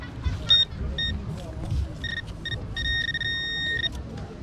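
Metal detector signal beeps ring out in short tonal bursts, then a longer sustained tone, over low rumbling background noise and movement while searching a beach changing area.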